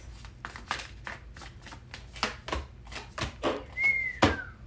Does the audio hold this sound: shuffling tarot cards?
yes